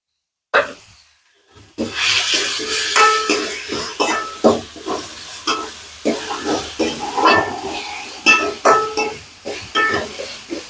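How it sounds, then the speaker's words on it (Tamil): Tomatoes and onions sautéing in a pan for a Chettinad soya curry, with rhythmic spatula stirring and scraping over a soft sizzle after a brief quiet start, close and steady. "நல்லா தக்காளி நல்லா வதங்கட்டும்."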